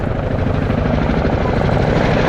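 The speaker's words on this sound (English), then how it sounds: "With the troops and quad bike on, the aircraft departs with over-the-shoulder transition." A Royal Air Force Chinook twin-rotor helicopter departs at an airshow with troops and a quad bike aboard. Loud, close, steady rotor thump and engine roar carry on throughout, with no talk.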